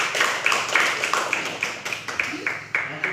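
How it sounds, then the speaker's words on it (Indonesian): A small classroom group claps for a student's presentation, a short, uneven patter of hand claps, fairly close and fading toward the end. "Kita aplaus dulu apa yang tadi sampaikan olehnya."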